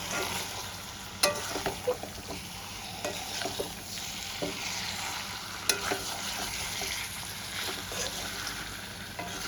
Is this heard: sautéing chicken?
yes